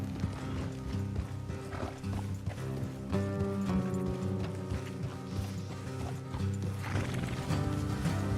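Horses in the video game Red Dead Redemption 2: steady hoof clip-clops with an occasional neigh, fairly quiet beneath an even bed of game music and mechanical creaks.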